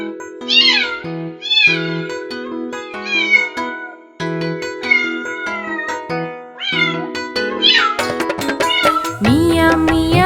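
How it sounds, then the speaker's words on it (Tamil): Cartoon-style cat meows ring out in a Tamil children's rhyme, repeated bright mews in a steady sung rhythm over a tuneful backing that grows fuller toward the end, loud and clear. "மியா மியா பூனைக்குட்டி, மீசை முறுக்கும் பூனைக்குட்டி."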